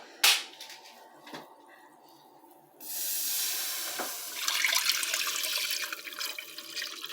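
Milk and water sauce mix poured into a pan for creamy pasta, a brief clatter then a sustained splashing pour that grows fuller and continues to the end, with no talk.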